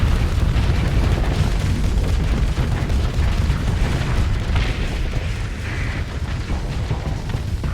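A spaceship blowing apart in the space combat game Starsector, a dense, loud roar of booming blasts and rumbling debris that holds steady for several seconds, with no talk over it.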